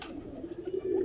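A single pigeon gives a soft, low coo close by. The call is brief and quiet and stands alone with no talking.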